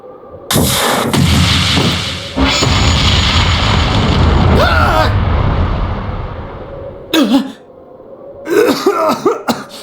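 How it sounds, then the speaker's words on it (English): A mine explodes in Trails of Cold Steel II with a loud booming blast and a long rumbling tail, followed by a second heavy burst, then brief character voices near the end. "It was a new model mine."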